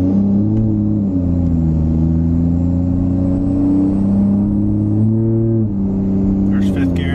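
A truck with a 68RFE transmission and a newly installed Revmax valve body drives on a test run. The engine drones steadily and its pitch shifts with gear changes, a constant near rumble.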